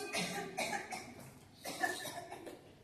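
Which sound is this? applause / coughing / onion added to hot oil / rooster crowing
coughing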